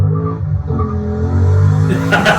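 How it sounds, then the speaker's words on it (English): An LS3 V8-swapped Mazda Miata engine rumbles and revs up, its deep growl climbing in pitch over a couple of seconds before a sharp rise at the end. "An LS3 swapped Miata"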